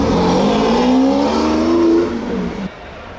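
An exotic luxury car accelerates hard on a Singapore street, its engine climbing in pitch through two rising gear pulls before it cuts off, loud and close with no talk.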